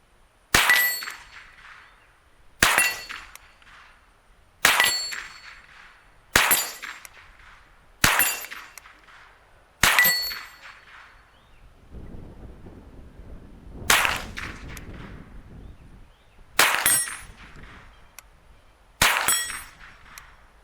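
A Marlin 70PSS .22 rifle fired over iron sights at steel targets set at 25 and 50 yards. Nine evenly spaced sharp cracks each ring out as a bright metallic clang that decays quickly. A quieter, rustling gap falls in the middle, and no one speaks.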